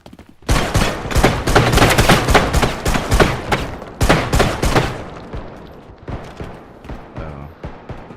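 Rapid video game gunfire fills the clip, dense bursts of shots in quick succession for several seconds, then thinning into scattered, quieter shots and rattles toward the end.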